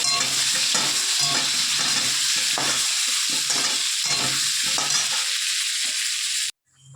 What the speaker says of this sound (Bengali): চিংড়ি মাছ ভাজার তেলের মধ্যে আমি আলুগুলো একটু ভেজে নেবো লাল লাল করে